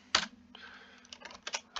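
Typing on a computer keyboard, a short burst of close, crisp key clicks in an uneven rhythm with one sharper strike at the start, heard alone.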